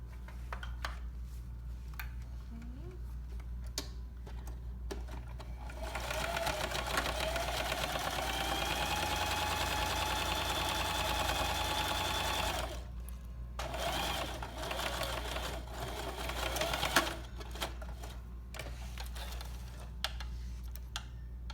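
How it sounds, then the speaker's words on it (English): A sewing machine runs in a sustained whirring hum while stitching lining and exterior zipper fabric for a zipper closure, starting and stopping between quieter stretches of small handling clicks and light ticks, close and fairly soft. "let's head to the machine and get that stitch in there"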